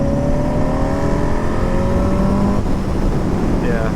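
A 1975 Honda Goldwing motorcycle at full throttle in second gear, its engine note climbing steadily and loudly as it accelerates, then shifting pitch near the end, close and continuous.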